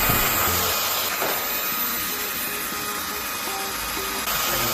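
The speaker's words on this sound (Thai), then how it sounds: "ซึ่งในส่วนของการดูดแบบเทอร์โบเนี่ย ให้เรานะครับ กดปุ่มไปที่บวกนะครับค้างไว้3 วินาทีนะครับ ซึ่งจะทำการดูดแรงเพิ่มขึ้น" An LG A9T-ULTRA cordless vacuum cleaner runs in turbo mode, giving a steady, loud motor whine and airflow hiss that holds constant throughout with no talking.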